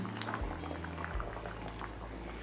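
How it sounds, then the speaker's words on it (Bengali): Mixed vegetables simmer in a pot of bitter neem-leaf stew, making a quiet, steady bubbling and gurgling close by, with no voices. "সমস্ত সবজি খুব ভালোভাবে সিদ্ধ হয়ে গেছে"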